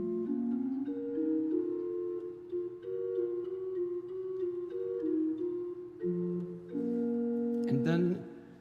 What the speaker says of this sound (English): the organ starts in the lower left-hand register and plays a lonely minor